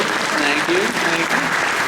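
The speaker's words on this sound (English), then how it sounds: "Yes, you guys can clap." Audience applause at a comic convention panel for Agents of S.H.I.E.L.D. in Phoenix, a dense, steady clapping from a large crowd filling the hall, with voices talking over it throughout.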